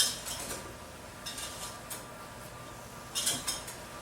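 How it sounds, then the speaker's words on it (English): Apples stirred through caramel in a pan, with scattered scraping and clinking of a utensil against the pan in a few light bursts, no talk over it. "Add in all of our apples, and we'll stir that around for about 30 seconds."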